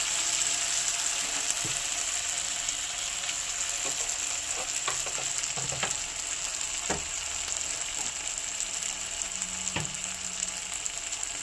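Ground spice paste of ginger, onion and garlic fries steadily in a pan, giving a constant loud sizzle with scattered scraping and stirring clicks throughout, and no voices.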